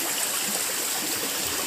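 A small forest river flows steadily, its broad rushing wash of water holding even and close for the whole span, with no voices over it.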